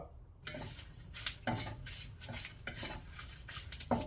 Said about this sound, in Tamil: இதை போட்டு இப்போ வறுக்கலாம் ஒரு பவுல் ஃபுல்லாக மிளகா